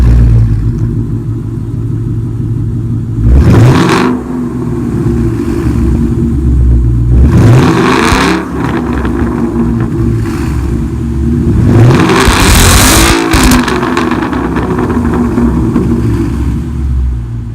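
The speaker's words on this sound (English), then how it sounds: "I have the MBRP muffler deletes with the MRT H-pipe, and I'm gonna show you guys how it sounds." A 2017 Mustang GT V8 with MBRP muffler delete and MRT H-pipe exhaust idles with a deep, loud rumble, broken by three sharp revs that climb and fall back, the last one longer and louder.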